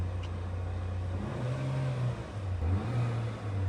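Mercedes A200 with its Renault-built engine being revved, a close engine hum that swells and dips in repeated rising revs.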